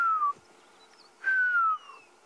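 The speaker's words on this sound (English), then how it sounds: "Some southern grey hornbills calling" Southern grey hornbills call in the Sabi Sand bush at sunrise, two thin descending whistled notes, faint and distant over quiet background.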